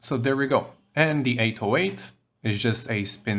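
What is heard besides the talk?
No everyday noises stand out.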